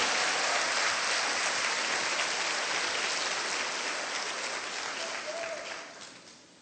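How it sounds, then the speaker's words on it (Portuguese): Congregation at a church service applauding in a sustained wash of clapping that holds steady, then tapers off toward the end. "Dá um aplauso ao Senhor pela sua vitória que está chegando."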